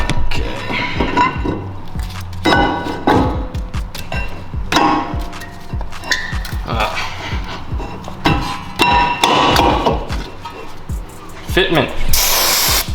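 Brake cleaner sprays onto the brake parts of a Ford Focus ST during a pad and rotor install, in several short hissing bursts between clanks of handled parts, up close, with someone talking throughout.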